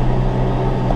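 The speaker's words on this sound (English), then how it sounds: "So this is a 100 horsepower tractor" A 100 horsepower tractor pulling a moldboard plow, its engine a loud, steady low drone with constant rumble and no change in pitch, heard close with no talking.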